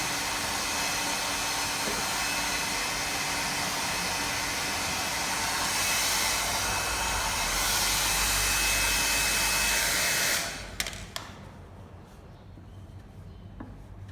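A hot air blower heats a sticker kit on a Honda PCX scooter, giving a loud, steady rushing hiss that swells slightly before cutting off abruptly near the end, leaving quieter room noise.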